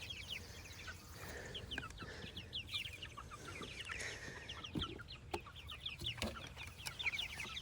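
Chickens cluck softly in a chicken tractor on a farm on a summer morning, a busy scatter of overlapping clucks and short calls heard from outside the pen, fairly quiet and continuous.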